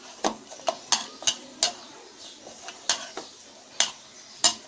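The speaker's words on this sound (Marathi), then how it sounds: "बटाटे मॅश करून घेणार आहोत चांगले." Boiled potatoes being mashed in a pan or bowl for paneer cutlets: sharp, separate clacks and scrapes of the utensil against the vessel, about a dozen irregular hits, close and fairly quiet.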